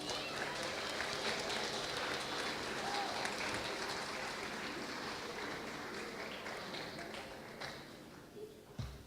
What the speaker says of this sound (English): give a round of applause to their family and their